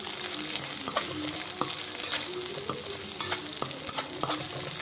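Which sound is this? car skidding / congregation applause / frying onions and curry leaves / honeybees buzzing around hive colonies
frying onions and curry leaves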